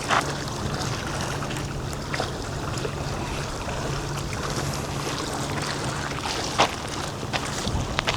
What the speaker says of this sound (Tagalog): May mga nagbo-boat o dragon boat.